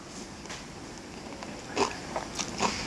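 Several crisp crunching bites into a fried garlic scape fritter, close and moderately loud, spaced irregularly over a quiet background.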